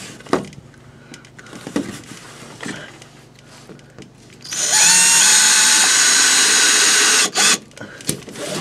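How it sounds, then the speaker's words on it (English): A power drill drives half-inch screws into a 3/4-inch furnace strip during an RV sewer valve replacement, giving one loud, steady whirring burst of about three seconds midway through, with quiet handling noises before and after. "I just shoot some little half inch screws in it"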